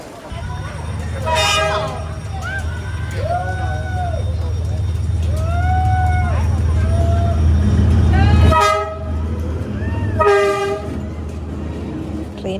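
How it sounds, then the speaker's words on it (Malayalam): A train rolls along Hanoi's Train Street, rumbling loudly and close as it passes, its horn sounding in several bursts, with people talking nearby. "ട്രെയിൻ ഒരു സൈഡിൽ കൂടെ മാത്രമല്ല, 2 സൈഡിൽ കൂടെയും പോകും."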